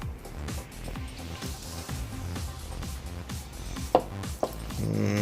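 Smoked St Louis style pork ribs sliced with a knife, a steady run of firm chopping cuts through meat and bone hitting a board, with a couple of sharper knocks near the end.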